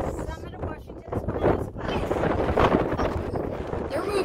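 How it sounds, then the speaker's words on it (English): Strong mountain gusts of wind buffet the microphone in a steady roar near Lakes of the Clouds Hut in New Hampshire's Presidential Range, with a person talking faintly underneath. "it's pretty windy up here"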